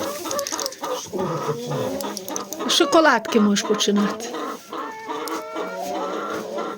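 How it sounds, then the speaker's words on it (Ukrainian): Chickens clucking and calling throughout, mixed with a person talking over them at close range. "Так, кури, що ви тут розкажете?"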